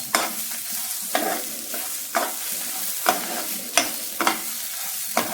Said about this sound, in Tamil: தேங்காய் வந்து அந்த தேங்காயோட கலர் நிறம் மாறணும், அது வரைக்கும் அதுலேயே நல்லா வதக்கிக்கோங்க.